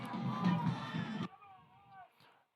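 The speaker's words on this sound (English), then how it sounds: "Home crowd's cheering loud for their boys." Home crowd at a high school football game, Piedmont at Noble, roaring loudly and broadly, then cutting off abruptly partway through, leaving faint whistling tones and scattered distant voices.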